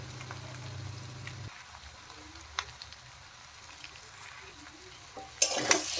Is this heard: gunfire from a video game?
no